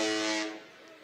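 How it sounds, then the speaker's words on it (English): An air horn blasts at a high school football game, one loud, sustained tonal honk lasting about half a second before fading into the surrounding stadium noise. "I've heard that air horn before."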